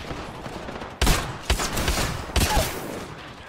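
Gunshots in a shooter video game: three sharp, loud reports at roughly one-second intervals, each with a brief ringing tail, over a low steady game background and no talking.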